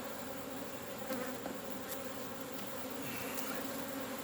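A dense, steady drone of many honey bees buzzing close around a hive, continuous throughout with a few individual insects flying past.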